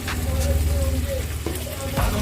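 Chicken stir-frying in a pan for kadai chicken, sizzling steadily close up with a bright, crackling hiss, and a faint voice speaking underneath.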